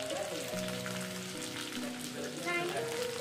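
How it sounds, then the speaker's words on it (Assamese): Green chillies and capsicum sizzle in hot oil in a pan, a dense, even crackle like steady rain that runs throughout at moderate level, with faint tonal background sounds over it. "সৰু আৰু কেঁচা জলকীয়াখিনি প্ৰায় 2 মিনিট সময় ভাজি লোৱাৰ পিছত প্ৰথমতে দিম আমি কেপচিকাম"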